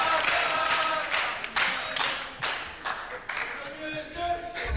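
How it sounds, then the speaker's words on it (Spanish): Applause for a radio host receiving a broadcasting award, with loud crowd clapping building in rhythmic surges and chanting voices and music underneath, close and sustained. "Ahora sí, fuerte el aplauso para Matías Martín."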